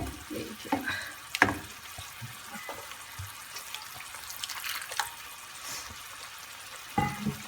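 Onions and tomatoes simmer in a pan with added water for a prawn roast, giving a soft, steady sizzle with a few sharper stirring clinks and scrapes, fairly quiet and with no talking.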